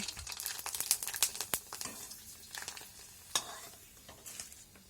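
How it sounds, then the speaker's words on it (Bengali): Papad frying in hot oil in a wok, giving a soft, steady sizzle with crackling bubbles and a few light clinks of a utensil, fairly quiet and heard on its own. "তেল গরম হয়ে গেছে, পাঁপড় দিয়ে দিলাম।"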